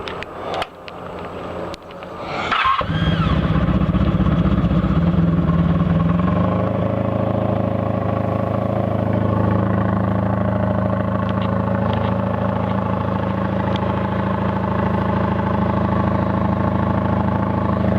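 A motorcycle engine with freshly rebuilt carburetors cranks, catches after a couple of seconds and settles into a steady, loud, close idle that carries on to the end inside a small garage workspace.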